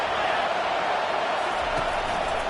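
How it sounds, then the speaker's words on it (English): A college football stadium crowd during a Temple game, a dense continuous roar of cheering and noise at a steady level, with no clear individual voices. "this crowd is turning it up a notch"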